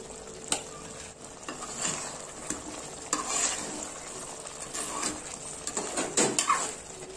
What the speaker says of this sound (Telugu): రుచికి సరిపడా కారం వేసి కలుపుకోవాలి.